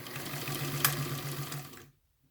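A sewing machine runs steadily as it back stitches along a sleeve seam, giving a close, continuous mechanical whir with a small bump midway, then stops abruptly before the end.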